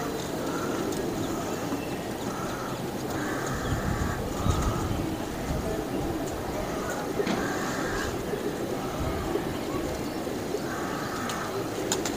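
A male teddy pigeon coos in repeated low, soft phrases against a dense, noisy background of other birds, with a voice talking faintly under it.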